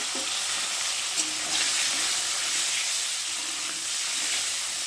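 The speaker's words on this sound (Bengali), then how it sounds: "ডিমগুলোকে সিদ্ধ করে নিয়েছি আর এখন ভাজবো" Boiled eggs fry in hot oil seasoned with salt and turmeric, giving a steady, close sizzling hiss with faint stirring scrapes throughout.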